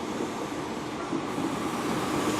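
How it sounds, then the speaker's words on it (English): A Great Western Railway train at Plymouth station gives off a steady, even rumble with no distinct clanks or announcements, heard from nearby and continuous throughout. "this will form the 1101 Great Western Railway service starting here to Newquay"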